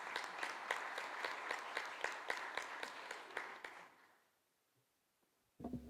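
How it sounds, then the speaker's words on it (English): Conference audience applauding co-host Mike Antonius, a quiet, even run of claps for about four seconds that fades to near silence before a brief sudden sound at the end. "An applause for Mike."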